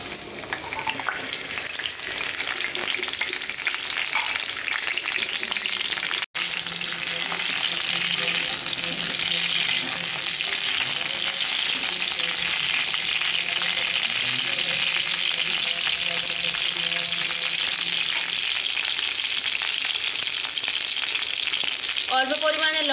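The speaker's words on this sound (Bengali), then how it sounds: "প্রথমে ফুলকপিগুলো ভেজে নেব।" Cauliflower florets fry in hot oil in a pan with a little salt and turmeric, a loud dense crackling sizzle that runs steadily throughout with occasional stirring scrapes, close up.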